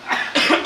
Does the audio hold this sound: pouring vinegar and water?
no